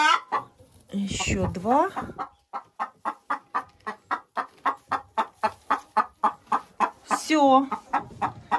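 Araucana hens cluck steadily in a coop during egg collection, with one hen sitting on a nest. The clucks come in a quick, regular series of short calls, and a person speaks briefly near the start and end.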